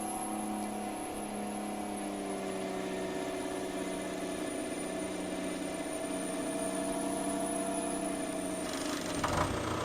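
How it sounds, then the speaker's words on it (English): A truck with an old Detroit engine drones steadily in Farming Simulator 19, holding a constant high whistle over a low rumbling hum, with a brief clatter right at the end. "Love the noise of this truck, the old Detroit engine in it, whistling away."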